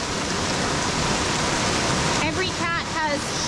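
Steady rain pours down as a dense, loud hiss at a big cat rescue sanctuary, with a few short rising calls near the end.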